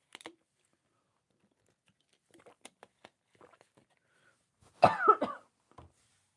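A single close cough rings out near the end, after a stretch of faint clicks and small mouth noises in an otherwise quiet room.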